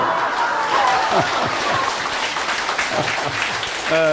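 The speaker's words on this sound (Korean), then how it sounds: "박수" An audience at a speech claps in a brief burst of applause, with laughter and chatter woven through it and a voice speaking over the end.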